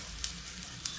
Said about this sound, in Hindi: ये देखिए, आलू डाल देते हैं, नहीं तो जीरा जल जाएगा।